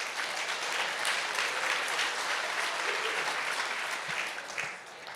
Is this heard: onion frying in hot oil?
no